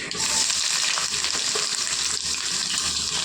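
Peanuts frying in a pan as chopped onions go in for poha, giving a loud, steady sizzle that holds without a break and carries faint stirring underneath.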